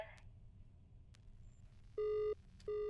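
Two short electronic telephone rings sound in the Is Simon There horror game, each a clean buzzing tone burst separated by a brief pause, over quiet background hum.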